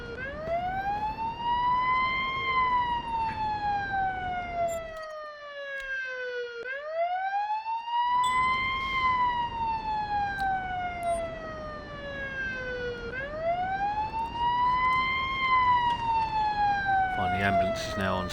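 Wailing ambulance siren in the Police Simulator: Patrol Officers video game, stuck behind traffic at a scene, rising and falling in long sweeps, loud and continuous with a brief drop in the low rumble partway through.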